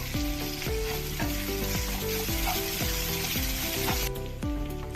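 Chopped onions hit a hot pan and sizzle loudly in a busy crackle, with steady rhythmic stirring scrapes throughout.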